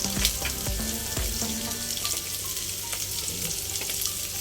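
Onion frying in a pan as the base for a Filipino pork and tomato soup, a steady close sizzle with occasional stirring scrapes and clinks, no talking.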